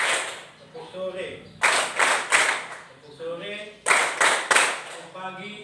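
Classroom of children clapping in short rhythmic bursts of two and three claps, interleaved with a teacher's chanted instructions and voices throughout.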